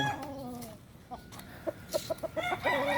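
Chickens and a rooster at a gamefowl yard, giving a run of short clucks and calls near the end after a stretch of other crowing and noise, fairly close and moderately loud.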